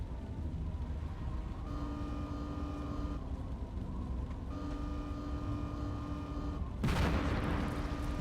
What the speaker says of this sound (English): I don't know if you can grenade tanks like this.